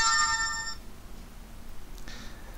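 A phone reminder app plays its notification tone, a short bright chime of layered tones in the first moment, followed by near silence and a faint second blip.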